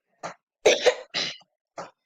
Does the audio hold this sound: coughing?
yes